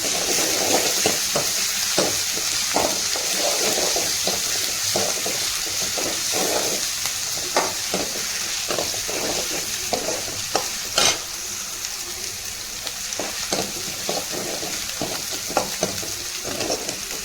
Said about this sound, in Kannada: ಉಳ್ಳಾಗಡ್ಡಿ ಹಾಕೊಂಡು ಸ್ವಲ್ಪ ಫ್ರೈ ಮಾಡ್ಕೊಳ್ಳೋದ್ರಿಂದ ಇದಿಷ್ಟು ಫ್ರೈ ಆಗೈತಲ್ರಿ